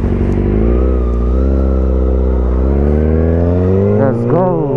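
A 2023 Kawasaki ZX6R sport bike engine screams loud and close, holding a high steady rev before the pitch climbs sharply in a rapid acceleration with quick gear-change dips near the end.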